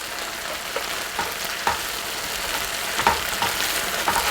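Pork neck steak sizzling on a grill, a steady close crackle with scattered sharper pops and light scraping, with no talking.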